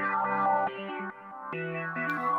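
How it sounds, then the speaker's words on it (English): Keys Emotion preset from the Equinox bank in the Serum synth plays a soft, sustained chord progression with layered harmonic tones, changing chords every half second or so, clean and alone with a light echo tail. "And I'm using the preset Keys Emotion, and it sounds like this."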